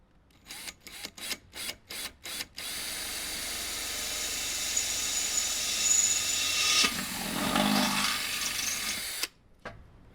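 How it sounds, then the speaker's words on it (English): A handheld power drill pulses in a rapid series of short bursts, then runs steadily as its bit bores into a Weber Q grill lid, ending with a few quick trigger blips. "You get your drill."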